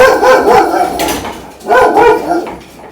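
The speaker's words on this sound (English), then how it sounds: "Sorry, my dog got very excited about something." Excited dog barking indoors: two loud, close bursts of barking about a second apart, trailing into softer yips and whines.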